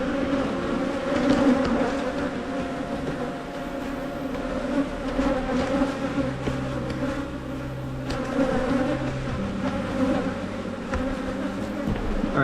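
Honeybees drone steadily around an open hive during a mid-May colony inspection, a dense, continuous close-up buzzing that never lets up.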